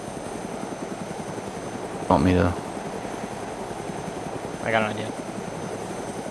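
A helicopter in a video game battle thrums steadily in the background with constant rotor drone, while someone speaks briefly twice over it.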